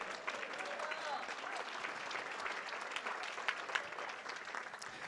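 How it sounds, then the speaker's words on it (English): Steady applause from an audience at a charity school auction, continuous clapping filling the room at a fairly even level throughout, with some voices mixed in. "Let's keep the applause going."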